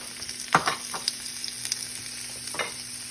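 Chopped onions are dropped into hot olive oil in a pan, with a few clattering stirs and a steady low sizzle of frying underneath, close by and without talk.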